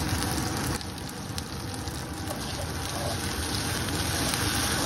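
Potatoes, corn and tomato sizzle in a non-stick pan with a steady, dense frying hiss, close and continuous with no talk.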